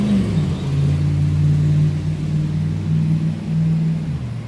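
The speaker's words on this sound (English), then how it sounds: "always some loud cars driving around." A car engine rumbles steadily and loudly from nearby, its low drone swelling and holding through the whole stretch without any speech over it.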